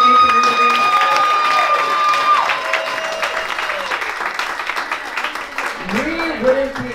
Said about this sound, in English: can we get a round of applause for being here, being in community?